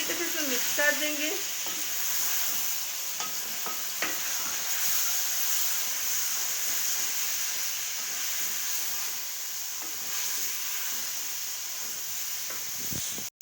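Tomatoes, half a kilo, being stirred into a chicken karahi in a pan, giving a steady bright sizzle and frying hiss throughout with occasional soft scrapes; a brief voice is heard near the start.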